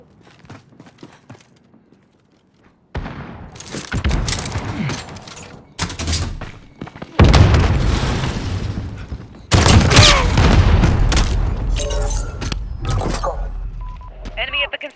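Gunfire and explosions in the video game Modern Warfare during a Kill Confirmed match, with loud shotgun blasts and booming bursts in dense, sustained stretches separated by brief pauses, while game voices call out over the action.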